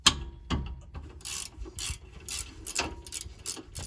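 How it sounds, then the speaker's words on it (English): An 18mm wrench works loose the brake bracket bolts on a 2009 Jeep Wrangler's rear brakes, giving a quiet series of metallic ratcheting clicks and scrapes in short, irregular bursts at close range. "I got an 18mm wrench that hopefully I'll be able to break them loose with"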